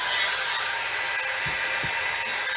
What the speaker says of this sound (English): is like an industrial strength hair dryer